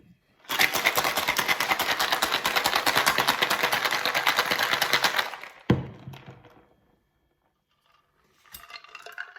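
Ice rattles hard in a cocktail shaker as a Vesper martini is shaken, a fast loud rhythmic clatter for about five seconds, followed by a sharp clink and quieter pouring sounds.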